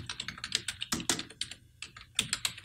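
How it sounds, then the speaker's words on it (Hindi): Someone types on a computer keyboard in Adobe Premiere, with a close, brisk run of clicking keystrokes in uneven bursts and short pauses, and no talking. "अब आप कोई भी लेटर यहाँ पे टाइप कर सकते हैं जैसे मैं यहाँ पे टाइप करता हूँ"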